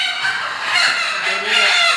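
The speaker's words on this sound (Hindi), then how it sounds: "ये कड़कनाथ नस्ल की मुर्गी है, प्योर कड़कनाथ" A Kadaknath hen squawks and honks loudly and continuously while being caught by hand, its agitated calls close and steady throughout.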